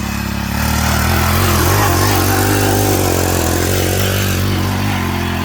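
A Chinese-made mini power tiller ploughing soil in a dragon fruit field, its small engine droning loudly and steadily up close with no break.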